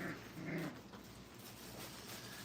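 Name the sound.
puppies playing rough, growling and whimpering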